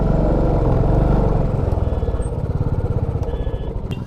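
A motorcycle engine rumbles close by as the bike rolls into a parking area. Its throaty drone eases off into a slower, pulsing idle-like chug as it slows.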